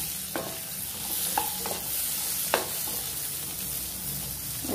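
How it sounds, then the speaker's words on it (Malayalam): Chopped onions sizzle in hot butter in a kadai for paneer butter masala, a steady frying hiss broken by a few sharp scrapes of a spoon stirring, close and alone. "കുറച്ച് വഴറ്റിയെടുക്കണം"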